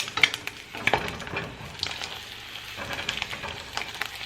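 An egg frying in a pan gives a steady close crackle and sizzle, with a few sharper pops near the start and no talking.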